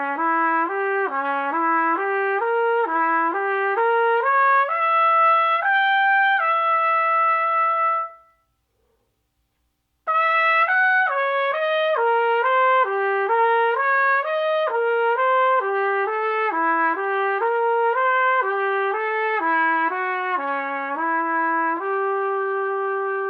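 A trumpet plays a diminished scale controlled slur exercise ascending from C, with clean stepwise slurred notes rising and falling in a steady rhythm, a brief pause, then a second run of slurred phrases, solo and close.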